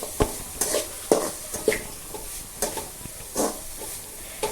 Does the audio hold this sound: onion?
yes